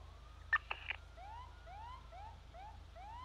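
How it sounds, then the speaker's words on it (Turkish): A police car siren sounds inside a video game shootout, a wailing electronic tone cycling in repeated upward sweeps at moderate distance, with a couple of brief clicks at the start and no talk over it. "Bu siren öttüren bizden mi Bing Bing Bing?"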